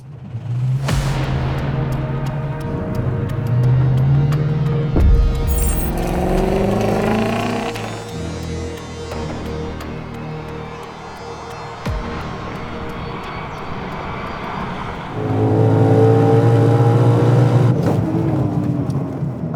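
A Ford Mustang GTD track car on a lap: a loud, close engine that revs hard and climbs through the gears with sharp shift breaks, roaring steadily between them.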